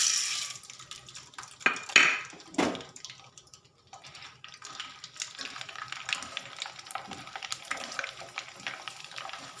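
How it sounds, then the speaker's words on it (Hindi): Sago pearls frying in oil on a high flame while being stirred: a soft, steady sizzle under scraping of a spoon against the pan and a few sharp metallic clinks, close and fairly quiet, with no talk. "अब फ्लेम को हम हाई कर लेंगे और इसी में ही साबूदाने के तलेंगे"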